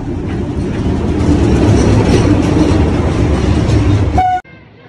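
A train rolls along the track with a loud, steady rumble and rattle of the cars, then the sound cuts off sharply near the end.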